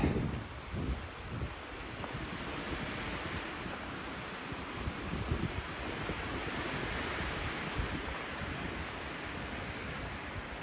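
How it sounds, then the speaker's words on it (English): Steady wind blowing across a mountain hiking trail near Three Fingered Jack on the Pacific Crest Trail, a continuous broadband rush with gentle surges and low gusty rumble throughout, fairly loud and close with no talking. "I also got to say, I love the sound of the wind."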